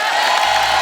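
Studio audience on a Kapil Sharma comedy show breaks into loud, dense cheering and applause for Bhojpuri star Pawan Singh, a steady roar of crowd noise filling the short moment with no speech.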